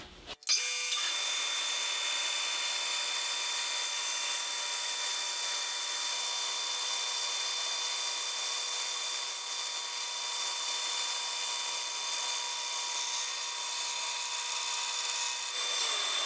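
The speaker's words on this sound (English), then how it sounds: "I have my bandsaw set up with the extension tables, which gives a little more stability so I'll get smoother cuts." A bandsaw with extension tables rips a long wooden board for inlay strips, an abrupt start into a steady, loud buzzing cut that holds evenly for about fifteen seconds with no talking.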